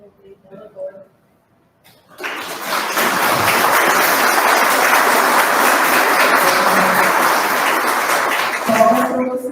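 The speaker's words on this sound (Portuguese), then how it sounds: "Palmas para você, minha amiga." A room of volunteers at a GEMB anniversary meeting bursts into applause after a brief spoken moment and a short pause; the clapping is dense and sustained for several seconds, with a voice resuming at the end.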